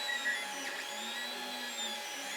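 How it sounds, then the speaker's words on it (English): A 3D printer prints three parts at once, giving off a steady, continuous whir of stepper motors with layered high whining tones and no pauses. "So it's printing 3 things sort of at once."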